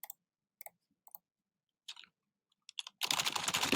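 Typing on a computer keyboard while setting up a Google Classroom assignment: a few scattered key taps, then a fast, dense burst of typing near the end, close and clear with no talk.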